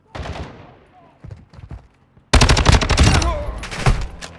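Video game gunfire during an NPC firefight: sparse single shots and voice-like sounds at first, then a loud, sustained close automatic burst of rapid machine-gun fire that runs to the end.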